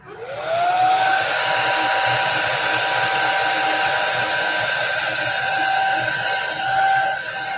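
A hair dryer drying chalk paste on a fabric strip banner starts up and runs with a loud, steady whooshing whine, the motor tone rising as it spins up and then holding close.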